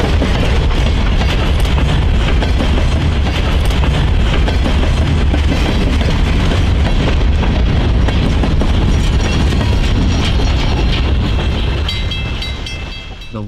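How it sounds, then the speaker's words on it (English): A freight train led by a Department of Transportation EMD GP40-2 four-axle diesel locomotive rolls past close by, a loud, steady rumble with rail clatter that holds throughout and eases slightly at the very end. "The locomotive leading today's train is a Department of Transportation GP40-2"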